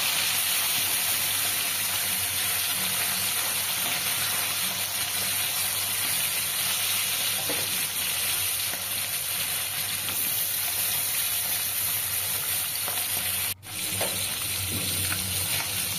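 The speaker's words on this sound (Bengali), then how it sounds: "মাছগুলো আমি একটু বেশ কড়া করে ভেজে নেব" Small flattened puti fish fry crisp in mustard oil in a wok, giving a loud, steady sizzle that runs unbroken for the whole stretch, with one brief dip near the end.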